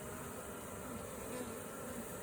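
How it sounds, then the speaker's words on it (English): A swarm of honeybees being hived gives off a faint, steady buzzing hum that holds evenly throughout, with no voices. "There'll probably be a lot of bees cleaning things out the way they want"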